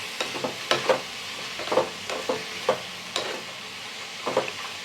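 Onion, tomato, green chili and red chili frying in oil, with a soft sizzle under repeated scraping and stirring strokes in an uneven rhythm, close and moderately loud, no talk.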